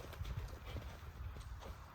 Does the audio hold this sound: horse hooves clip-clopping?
yes